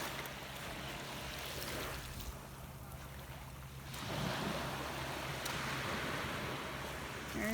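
Incoming high-tide waves wash over a shell-strewn Captiva Island beach, a steady broadband surf hiss that swells louder midway and then keeps rushing continuously, with wind buffeting the microphone.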